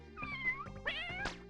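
Several cats meowing in a video game's underwater stage, their cries overlapping and stacking into a dense, loud chorus of rising and falling yowls with no pause between them.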